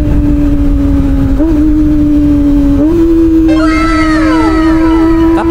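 Kawasaki Ninja ZX-25R motorcycle engine during clutchless downshifting: a loud, close, high-pitched engine whine that jumps upward in quick throttle blips as each gear drops, with no talking.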